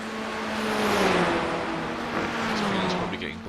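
FF1600 race car engines in iRacing, a loud, continuous buzzing drone with pitch sweeping down and then rising again as the cars run close together, plus faint tire noise.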